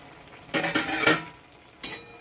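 A metal lid clatters as it is lifted off a pot where ash gourd peel is simmering in water, giving a short burst of rattling and scraping, then a second sharp clink a moment later, close by and without speech.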